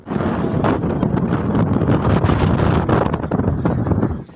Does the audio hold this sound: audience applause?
no